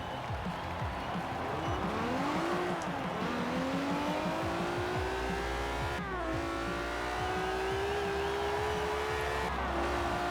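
A JDM car in Forza Horizon 4 revs repeatedly, its engine note climbing and dropping through several loud, continuous sweeps with a busy rumble underneath.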